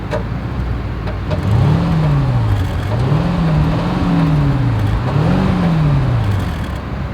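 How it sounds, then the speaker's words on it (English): Exhaust of a 2021 Mercedes-Maybach S580, heard up close as several smooth rev swells that rise and fall in a wavy pattern over a steady idle, with no voices. "As always, here is that exhaust clip."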